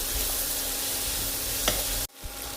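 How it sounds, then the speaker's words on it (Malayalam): Onions and slit green chillies sautéing in a pan for a pearl-spot fish molly, an even close sizzle with a brief scrape of stirring, cutting off abruptly near the end before resuming. "ഈ പച്ചമണമൊക്കെ ഒന്ന് മാറി സവാള ഒന്ന് വഴന്ന് വരണം"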